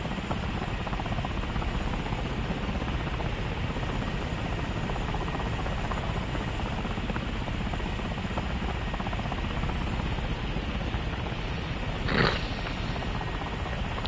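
A Huey helicopter in War Thunder flies with a steady, even rotor thrum and engine drone throughout, continuous and moderately loud, with a brief sharp click near the end.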